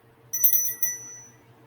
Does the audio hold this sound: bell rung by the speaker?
yes